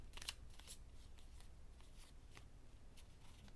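A spirit card deck handled to draw cards, giving soft, faint papery flicks and slides spaced out over a quiet room.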